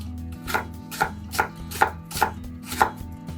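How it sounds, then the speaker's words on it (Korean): A knife dices apple into small cubes on a cutting board, giving about seven crisp, evenly spaced chops close up with no voices. "사과를 잘게 깍둑썰기 해줬고요."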